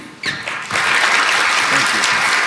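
Press-conference audience applauding the new New England Patriots head coach Mike Vrabel, starting with a few scattered claps and swelling within a second into a steady, dense round of applause that continues to the end.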